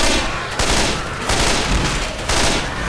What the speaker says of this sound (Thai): ปืนกลตรงนี้ครับ เอาซะหน่อย